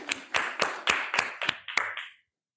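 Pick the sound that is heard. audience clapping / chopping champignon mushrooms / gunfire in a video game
audience clapping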